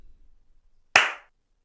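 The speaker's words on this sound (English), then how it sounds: "clap whenever you want, really." One sharp hand clap for audio sync rings out close by after near silence, with a short decaying ring.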